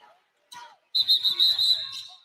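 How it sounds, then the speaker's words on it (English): A referee's whistle at a Texas vs West Virginia women's college basketball game gives one long, loud, steady blast lasting about a second, shortly after a brief bit of voice and arena noise. "We're going to get a whistle behind the play."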